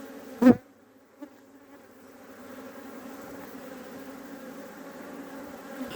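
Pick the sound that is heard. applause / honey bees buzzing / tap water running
honey bees buzzing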